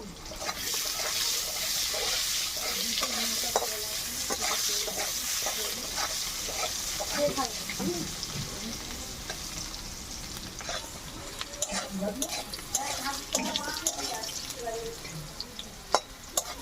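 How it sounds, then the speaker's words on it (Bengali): Chopped potatoes fry in oil with salt and turmeric, giving a steady sizzle while a spatula stirs and scrapes them in the pan at close range, with only slight background voice. "কুটে রাখা আলুগুলো আমি ভেজে নেব। সামান্য লবণ আর হলুদ দিয়ে দেবো, দিয়ে আমি ভেজে নেব।"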